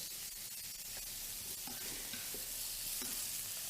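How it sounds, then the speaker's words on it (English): Milk with pieces of cod simmers in a pan, giving a quiet continuous hiss with faint soft pops and light bubbling, low in level and heard alone. "the milk is starting to bubble boil a little bit"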